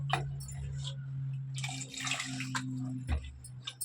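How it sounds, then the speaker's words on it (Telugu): Water pours and splashes into a pot of mutton paya in uneven bursts over a steady low hum, fairly quiet and close. "నూనె మొత్తం మగ్గిపోయింది ఇప్పుడు వాటర్ పోసేస్తున్నాము"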